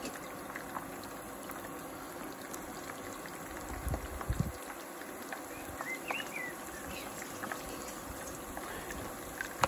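Beer-battered sausages deep frying in hot oil for homemade fish and chips: a steady bubbling hiss, with a short louder burst of churning partway through.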